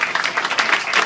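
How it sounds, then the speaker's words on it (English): An audience at an acoustic radio session applauds a band, with brief, lively clapping from a small crowd close by. "Yeah, you can applaud that."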